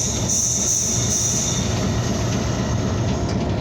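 The Hazara Express train rumbles steadily close by, with a high metallic wheel squeal running over the low rolling noise throughout.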